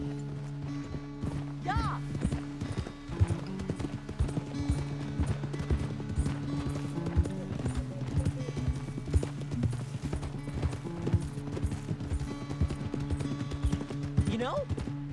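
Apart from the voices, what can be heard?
horse hooves galloping, from the video game Red Dead Redemption 2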